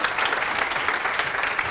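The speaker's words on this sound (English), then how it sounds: "Give Rachel a big round of applause" A theatre audience at a talk gives steady, dense applause, a brief continuous wash of many hands clapping together with no voices over it.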